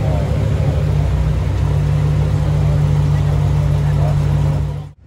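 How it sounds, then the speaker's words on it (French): A Lamborghini Huracán Performante Spider gives a loud, steady, deep engine rumble close by, holding an even tone before it cuts off abruptly at the end. "Lambo Huracan Perf Spider qui part."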